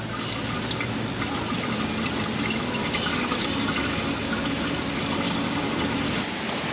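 Transmission fluid pours steadily out of the pan of a BMW 540i 3.0 turbo with a ZF8 transmission, a continuous close splashing liquid stream that barely changes throughout.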